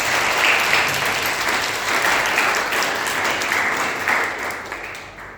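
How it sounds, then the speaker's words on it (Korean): Sustained applause from a church congregation at a Korean Sunday worship service in Bali, steady and dense for several seconds before easing off at the end. "우리 잠깐만 일어나시면 큰 박수로 부탁드리겠습니다."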